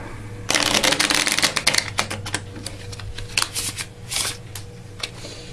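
Playing cards being handled and riffled at close range, a burst of dense crisp flutters followed by softer intermittent snaps and slides, with no talk.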